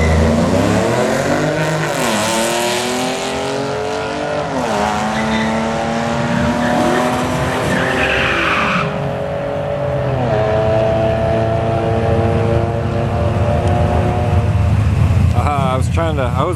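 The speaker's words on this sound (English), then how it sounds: "I was waiting to catch this red car run. It's a classic fair lane right there." A classic red Ford Fairlane makes a street race run at a street-legal Friday night event, its engine roaring loud and steady with rising revs and brief tire squeal, crowd noise beneath.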